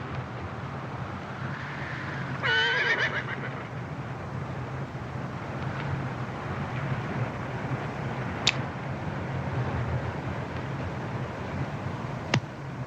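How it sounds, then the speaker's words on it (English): A horse in an Old West setting neighs once, a short wavering whinny near the start, over a steady low rumble of outdoor wind and ambient noise, with a couple of faint sharp clicks later. "Caballo."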